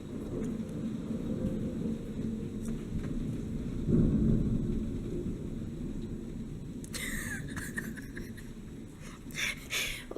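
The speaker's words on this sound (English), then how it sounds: "thundering, lightning, raining right now. It's hailing outside." Thunder rumbles low and continuous through a hailstorm with lightning and rain, swelling around the middle, while sharper bird-like caws and bright crackles break in near the end.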